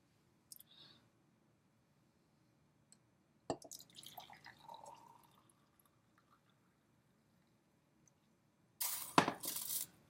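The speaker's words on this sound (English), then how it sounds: "So let me go ahead and pour my cup." Tea poured from a pot into a cup, heard as a short, quiet liquid pour with faint drips and clinks, ending in a brief louder burst of noise.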